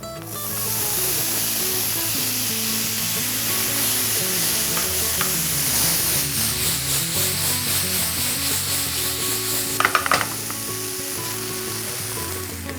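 Masala spices sizzle and fry in a hot pan for an Indian chicken keema pav made with plant-based meat, a steady loud frying hiss with scraping stir strokes throughout and a brief louder clatter near the end.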